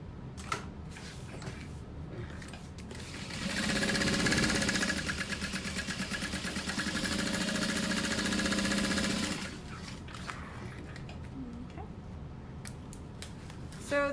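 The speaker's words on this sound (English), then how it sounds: "And then I'm just basting the pocket to the bag." A sewing machine bastes a fabric pocket onto a handbag in one steady whirring run of about six seconds in the middle, with quiet handling clicks before and after.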